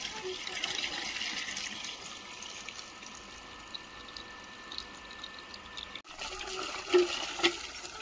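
Water from a motor-driven pump flows in a steady, moderately faint rushing stream, with a brief dip and a few splashy surges near the end.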